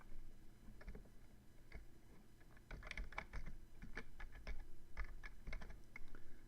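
Fingers tap numbers into a calculator in quick, faint, irregular clicks and ticks, bunched in short runs against a quiet room hum.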